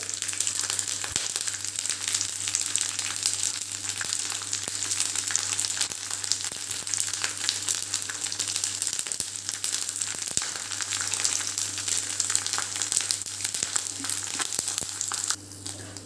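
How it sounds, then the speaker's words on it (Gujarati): Sago pearls deep-fry in hot oil for a savory farari chevdo, giving a loud, continuous crackling sizzle heard up close with no speech, easing off briefly at the very end. "આવો તળતળ અવાજ બંધ થાય ત્યાં સુધી આપણે એને તળાવવા દેવાના છે"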